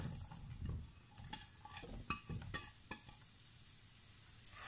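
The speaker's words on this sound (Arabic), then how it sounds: "غادي نشحر البصله والفلفله" Onion and pepper sautéing in cooking butter in a deep frying pan, with a soft continuous sizzle broken by several sharp stirring scrapes and clinks of a utensil against the pan, heard close with no talk.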